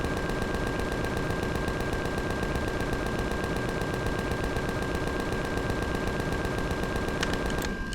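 Turret gunfire in the video game Empyrion, a relentless rapid stream of shots pounding steadily for the whole stretch, loud and close with a constant ringing tone over it and no voices.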